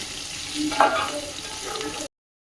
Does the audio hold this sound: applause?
no